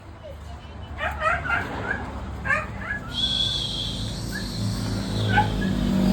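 Dogs at a rural Philippine home on New Year's Eve bark and yip in short bursts, with whimpers, close by, mixed with people talking nearby.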